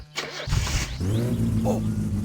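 A car engine in the video game My Summer Car cranks and catches, settling into a steady low running hum while excited voices cheer over it.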